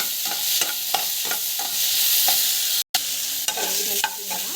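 Ivy gourd sautéing in a pan with steady sizzling, cut by repeated scraping strokes of a spoon stirring the vegetable, close and fairly loud, with one brief dropout partway through.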